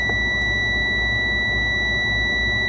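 Truck air brake low-pressure audible warning buzzer sounds inside the cab, a loud, continuous steady electronic tone held without break over a low engine idle rumble, with no talking.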